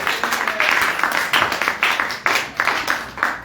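A church congregation claps in steady rhythmic bursts with some cheering, loud and close, the hand claps pulsing evenly through the whole passage.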